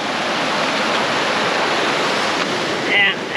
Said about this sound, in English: this is the river where we're fishing